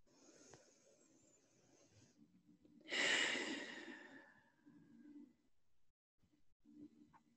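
Slow, audible breathing during a guided relaxation exercise: a soft inhale, then a louder, longer airy exhale and quieter breaths trailing off, close and alone with no talking.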